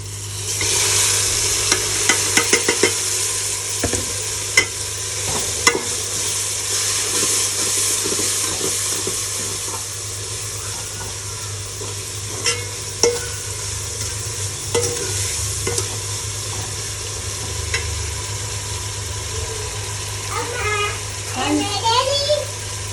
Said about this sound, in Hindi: मिर्चें की भुनाई हो चुकी है तो अभी इसमें करेंगे टमाटर ऐड